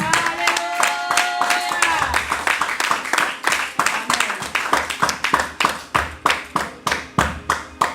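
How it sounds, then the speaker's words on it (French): A church congregation applauds, starting as dense clapping and settling into loud, rhythmic unison claps that continue steadily to the end. "Est-ce qu'on peut acclamer pour Jésus?"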